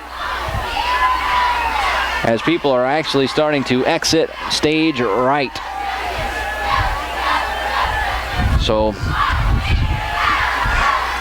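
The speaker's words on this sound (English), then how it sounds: "you can hear the Trojan crowd on the other side of the field right now" Trojan crowd cheering and shouting from the far side of a high school football field, a broad roar from a distant crowd running under an announcer's voice throughout.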